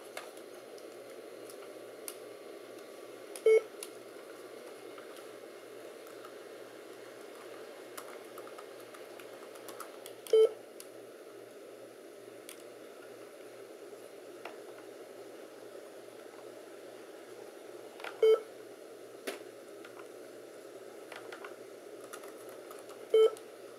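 An old laptop or desktop computer starting up Windows gives four short, identical beeps spaced several seconds apart over a faint steady hum, with no talking.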